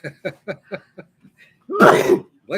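A single loud, explosive sneeze bursts out after a run of short rhythmic vocal sounds, close to the listener.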